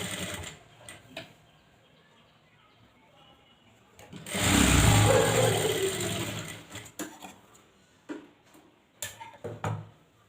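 A sewing machine stitches a tuck strip on a blouse in one sustained burst of rapid needle clatter for about three seconds, preceded and followed by quiet ticks and small handling sounds at close range.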